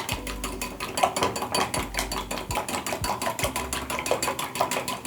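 A whisk beats spices together in a bowl with a quick, even rhythm of metallic scraping and clinking strokes, close and clear, with no talking.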